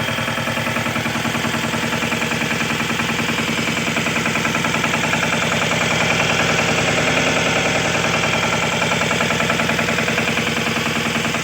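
A 2016 Emirsan 15-ton M-series machine runs with a loud, steady mechanical engine drone and a rapid rhythmic pulsing that holds constant throughout, close and unbroken, with no voices.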